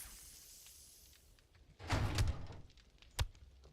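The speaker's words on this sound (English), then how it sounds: "Close the door for a moment." A door shuts in the survival game 7 Days To Die, a single solid thunk followed by a short sharp knock, heard close and clear with no talking over it.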